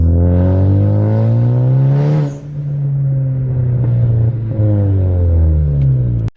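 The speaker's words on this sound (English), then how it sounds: "So first impression of the blow-off valve, it sounds amazing." A Ford Focus ST with an HKS blow-off valve, engine droning loud and close under boost, briefly rising then dropping as a short airy hiss bursts out around the shift from first to second, and the engine then pulls on steadily.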